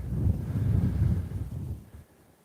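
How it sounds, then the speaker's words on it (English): Strong wind on an exposed coast buffets the microphone in a low, heavy rumble that gusts for about two seconds and then drops away. "there is a lot of wind here because it's exposed"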